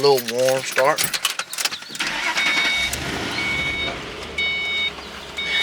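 A Ford Mustang 3-valve engine cranks and catches on a warm start after brief talk, then settles into a steady idle with faint high beeping tones over it.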